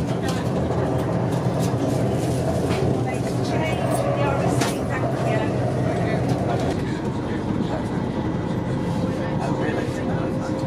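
Steady rumble and rattle from inside a moving LNER Azuma passenger train carriage on its first day of service, continuous throughout, with people talking underneath the noise.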